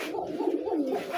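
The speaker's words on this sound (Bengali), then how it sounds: "এটা কবুতরের মুশকি গিরিবাজ" Mushki Giribaz pigeon, a third-generation bird of a good flying bloodline, cooing in a steady, continuous low rolling call, close and moderately loud, with no talk over it.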